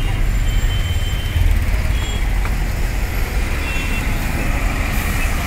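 Trucks stand idling in a road traffic jam, with a loud, steady low engine rumble filling the scene and faint high tones drifting over the constant roar.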